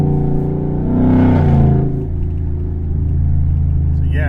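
A race truck's engine and exhaust rumble close up, deep and throaty, swelling into a brief rev before settling back to a steady idle growl.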